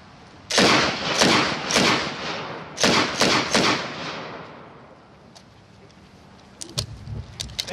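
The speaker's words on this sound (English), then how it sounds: "he'll give us a little demonstration of firing." BREN light machine gun firing outdoors in two loud bursts of rapid shots, the first of about four rounds and then a second short burst, with a fading echo and faint clatter afterward.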